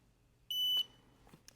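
FIT KING full-leg massage boots give a single short, clear electronic power-on beep, followed by a few faint handling clicks in a quiet room.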